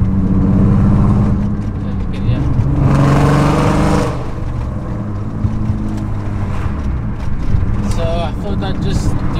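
A BMW E36 328i with an M52 straight-six and straight-pipe exhaust, suffering a misfire, drones loudly and continuously while driving, with a rough, uneven engine tone and a brief swell around the middle.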